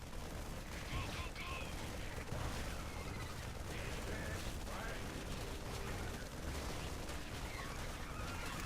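Units in StarCraft II keep up continuous rapid gunfire, a dense crackling barrage running steadily throughout at moderate level, with speech partly under it.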